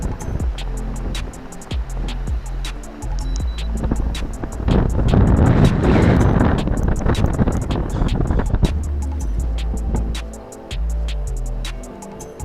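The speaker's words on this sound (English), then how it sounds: "We surely can't fish in this wind." Strong wind buffets a small fishing boat on open water in Florida, a loud continuous roar with gusts swelling in the middle, joined by a steady rhythmic ticking throughout.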